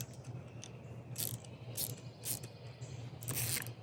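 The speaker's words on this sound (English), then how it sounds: "Ratchet this way to loosen." A Fix It Sticks compact ratchet is turned to loosen a fastener, giving short bursts of quiet clicking at an uneven pace, close by and fairly faint over a low steady hum.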